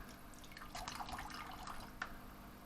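Cooling water runs through the coil loop of a homemade induction heater setup, a steady soft trickle with faint drips, close by and alone.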